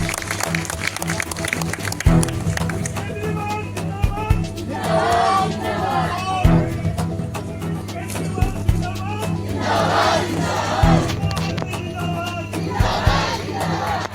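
A large crowd at a live political event cheers, shouts and claps for Arvind Kejriwal in Delhi, a loud sustained roar with surging cheers and rhythmic chant-like swells over a steady low hum, punctuated by occasional thumps.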